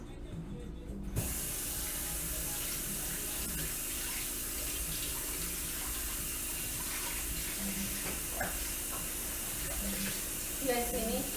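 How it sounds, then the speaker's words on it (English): Tap water runs in a steady, even hiss while hands are washed beneath it, with faint voice and occasional soft clatter in the background. "I'm gonna wash my hands now"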